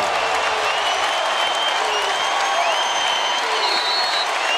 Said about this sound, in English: Listen to this crowd in Louisville.